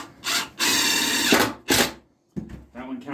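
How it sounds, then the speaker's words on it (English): A power drill drives a countersunk screw into wood in short bursts, several loud whirring runs of rising effort separated by brief pauses. "we're going to put our middle screw in first"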